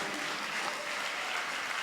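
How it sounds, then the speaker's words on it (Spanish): A church congregation applauds in praise of the Lord, producing a brief, even wash of many-handed clapping heard from a moderate distance. "Darle un aplauso al Señor."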